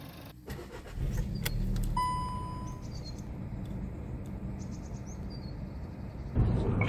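A Volkswagen Eco TSI car pulling away for a drive, its engine a steady low rumble with a few faint whirs and chirps in the cabin, rising in level near the end.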